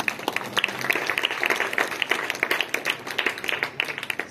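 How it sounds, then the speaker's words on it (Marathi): A hall of children claps at a school science one-act play competition, the applause fairly thin and uneven, with individual claps standing out in an irregular, pulsing rhythm. "टाळ्यांचा आवाज खूप हळूहळू येतोय"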